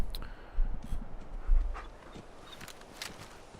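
Dogmeat the dog in Fallout 4 gives a few short, soft barks and whimpers spread over a quiet background.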